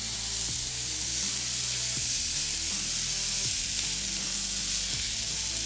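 A smash burger patty sears on a hot griddle, giving a loud, continuous, even sizzle with a few faint scrapes underneath and no voices.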